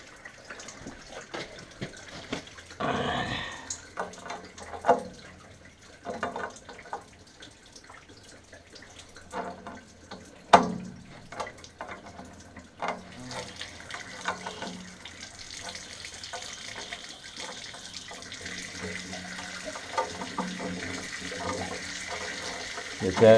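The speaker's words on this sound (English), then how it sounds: "And then we're going to want to drain this tank here too." Water draining out of the hot water tank and pipes of a vacation house being shut down for winter, a steady running and trickling flow with scattered clunks and handling noises, and a voice speaking now and then.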